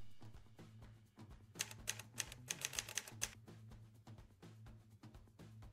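Crisp keystrokes on a computer keyboard tap in a quick burst of about eight clicks, loud and close, over a low humming background within a Mônica cartoon scene.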